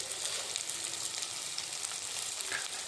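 Katla fish curry spices, Kashmiri red chilli powder, turmeric and coriander powder, sautéing in a pan for a Bengali dalna, giving a constant close sizzle and crackle with no voices over it.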